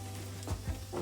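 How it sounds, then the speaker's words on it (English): Mushrooms sizzle softly in a pan as they sauté for a pasta sauce, a low continuous frying hiss with a few brief stirring bumps, fairly quiet and without talk. "when you're sauteing the mushrooms"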